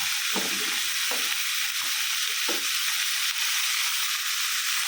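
Cauliflower thoran stir-frying in an open pan: a steady broad sizzle fills the whole stretch, with a few soft low scrapes of stirring recurring every second or so, close and fairly loud, no talking.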